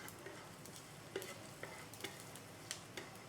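Cashews roast in a pan with a faint, steady sizzle. Small ticks and clicks from stirring pop up now and then, quiet and close, with no voices.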